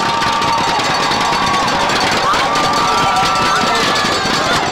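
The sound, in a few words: football crowd cheering at a playoff game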